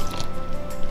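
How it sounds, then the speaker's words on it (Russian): Water poured into a bowl of flour dough mixture for vareniki, a soft, continuous liquid trickle and splash lasting about a second, close by with no talk over it. "Добавляем воду."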